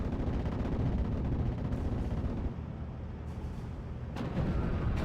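An ME-109 fighter strafes a Bofors anti-aircraft gun in the World War II strategy game Steel Division 44. Dense, continuous gunfire and rumbling blasts roar loudly throughout, dipping briefly midway before surging again.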